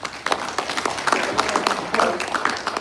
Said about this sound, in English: we should give a round of applause